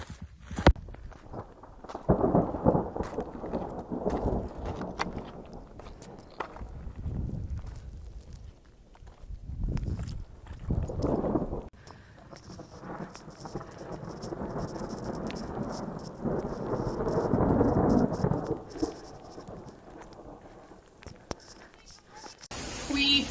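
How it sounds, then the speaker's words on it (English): Heavy pouring rain drums steadily outdoors while deep thunder rumbles and swells at intervals, loud and close throughout. "it started pouring outside, like actually pouring"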